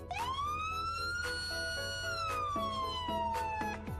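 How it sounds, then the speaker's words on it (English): Police car siren in the Truckplanet video game, a loud long rising-and-falling wail that sweeps up, holds and slowly drops, with a second lower tone entering partway through. "Here's the first siren."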